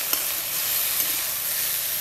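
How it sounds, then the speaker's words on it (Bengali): Fish curry made with fresh bata fish sizzles steadily in a pan, a dense, even frying hiss close up with a couple of faint stirring ticks and no talk. "তরকারি রান্না করতেছে।"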